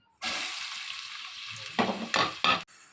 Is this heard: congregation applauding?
no